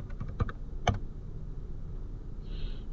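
A computer keyboard being typed on gives a short cluster of clicky keystrokes near the start, then a quiet pause over faint room hiss.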